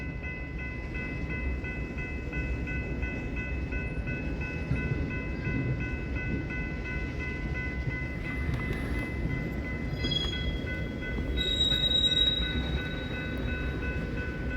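A BNSF freight train moves slowly at a diamond crossing in Fremont, Nebraska, with a steady low rumble, faint rail squeals and high tones, heard from a distance and continuing throughout.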